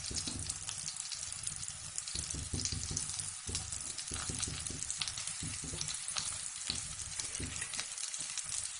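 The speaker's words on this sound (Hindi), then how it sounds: "धीमी आंच पे ही इसे पकाना है ताकि चारों तरफ बैगन खूब अच्छे से सिक जाए और जले नहीं" Stuffed eggplant sizzling and frying in a pan over a low gas flame, a steady crackling hiss with small irregular pops, continuous and close, with no talking.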